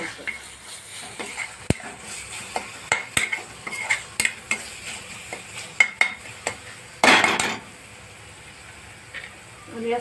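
A shrimp chutney with turmeric is sautéed in a pan, giving repeated sharp clinks and scrapes of a metal spoon against the pan over a faint sizzle, with a short burst of louder hissing near the end.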